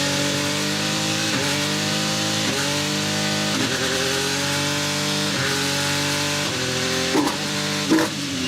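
An Alfa Romeo 155 V6 engine runs strongly, rising through several revving pulls with brief dips between them, loud and close with a harmonic growl and no talking.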